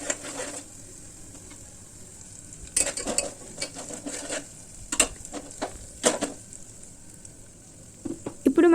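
Ginger garlic paste frying in a pan, a faint continuous sizzle broken by repeated sharp scrapes and clinks of a spoon stirring against the metal.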